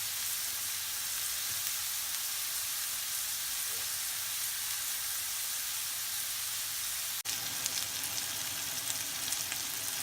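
Goose pieces sear in a hot pan for a goose curry, giving a continuous, even sizzle and hiss at moderate volume, with one sharp click near the end.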